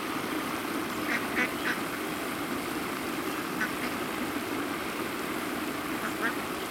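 Several ducks quack in short scattered bursts at a pond during feeding, over a steady low rumble of outdoor background noise.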